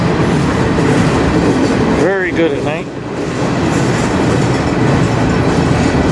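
A CN train passes about 40 feet away at night on the Strathroy Subdivision near Sarnia, Ontario, giving a loud, steady rumble and rolling rail noise throughout. Someone talks briefly over it midway.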